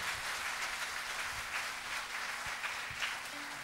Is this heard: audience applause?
yes